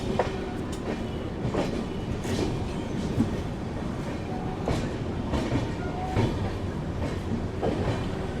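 Karnataka Sampark Kranti express train running on its long-distance route, heard as a continuous rumble with rhythmic clickety-clack of wheels over rail joints and occasional squeals, steady and moderately loud with no talk.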